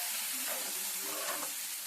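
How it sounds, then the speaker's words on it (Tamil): Tomato chutney with a freshly added ground paste sizzles and bubbles in a pan on the stove, a close, steady frying hiss with faint popping and no talk over it. "இப்போ இது நல்லா கொதிக்கட்டும்."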